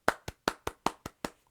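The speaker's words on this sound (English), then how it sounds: "So give him a round of applause." A small round of applause: about seven distinct, crisp hand claps in an even rhythm, fairly close and moderately quiet, with no talking.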